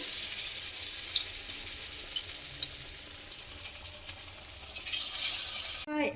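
Pumpkin leaf rolls sizzle steadily in hot oil in a pan, a constant bright hiss with small pops and crackles, ending with a brief louder sputter.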